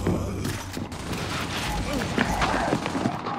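Rapid gunfire bursts from the video game Gears 5, with dense overlapping shots and booms running throughout under a player's voice.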